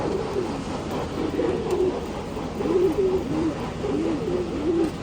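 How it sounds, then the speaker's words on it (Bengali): Pigeons sitting in the sun after days of cold weather coo in soft, repeated rolling calls, fairly close and steady, over a faint outdoor background with no talk. "কবুতরগুলো একটু রৌদ্র খাবে"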